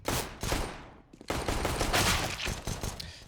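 Bursts of rapid gunfire from a Counter-Strike match on the Overpass map, loud and close, with a short lull before the firing resumes in dense overlapping volleys.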